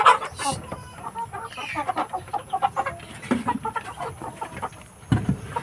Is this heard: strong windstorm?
no